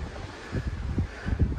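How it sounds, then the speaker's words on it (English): Wind gusting on the Texas coast near Corpus Christi, a steady broadband rush with low buffeting thumps against the microphone, moderately loud and unbroken, with no voices. "It is a windy day."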